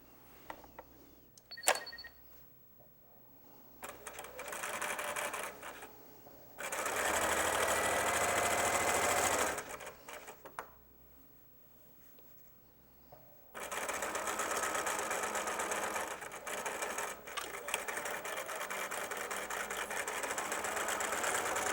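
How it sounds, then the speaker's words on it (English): A sewing machine stitches binding onto the front of a quilt, running in several steady bursts of whirring with short quiet pauses between them. "I'm going to finish sewing the binding to the quilt front"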